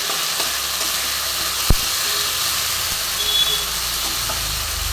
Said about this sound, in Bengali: ভালো করে কষতে থাকবো বন্ধুরা